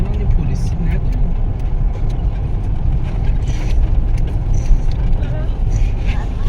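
A car engine runs at a steady, loud rumble for several seconds, close by, with people talking over it.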